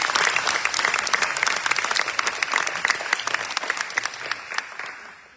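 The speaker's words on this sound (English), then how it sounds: "Let's give him a round of applause for that." Sustained audience applause fills a retirement ceremony for an Air Force master sergeant, dense steady clapping close and lively that thins out in the final second.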